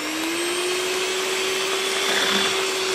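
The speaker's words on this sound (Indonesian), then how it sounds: "Kocok sampai mengembang dikocok mengembang seperti ini" An electric mixer whisks taro steamed cake batter with a loud, steady, unbroken whir close by, its pitch rising slowly throughout.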